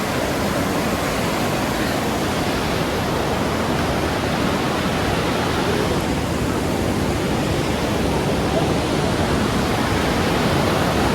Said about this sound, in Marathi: आणि बघा दुसऱ्या बाजूने अशी खळखळून निघते बघा नदी.